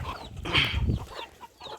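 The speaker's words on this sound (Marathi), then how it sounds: "हा बघा कोंबडा हा खूप मोठा कोंबडा आहे" A large rooster clucks nearby in a short burst of a few throaty calls, fairly loud and with no voices over it.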